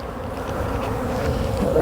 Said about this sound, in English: I've got lots of bees a-flying because they're confused. Their hive disappeared.